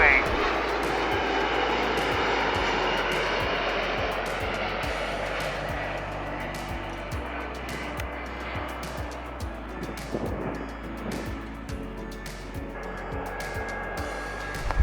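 An airliner on approach to runway 15L at Seoul Incheon airport drones steadily at a distance, its engine roar broad and sustained, while air traffic radio chatter crackles over it in bursts.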